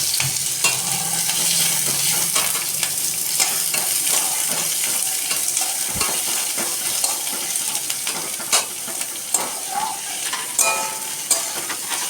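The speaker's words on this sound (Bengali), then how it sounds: "এবার মোমোর যে ভেতরের মশলাটা করব তার জন্য প্রথমে দিয়ে দিচ্ছি পেঁয়াজ" Onions frying in oil in a wok for momo filling, a steady dense sizzle with stirring scrapes and a sharp clink of the spatula partway through, loud and close throughout with no talking.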